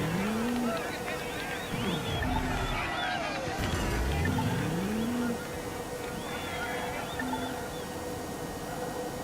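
Race car in Watch Dogs 2, a steady engine drone with rising and falling gear-shift sweeps as it slides through sharp corners of a twisty track, continuous throughout under a constant wash of noise.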